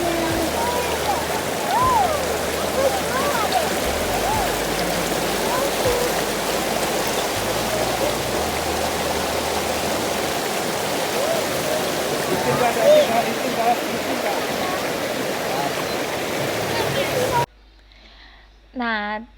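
A river stream flows with a constant broad rushing wash beside rice fields, close and steady, while a person talks over it before the water cuts out abruptly near the end.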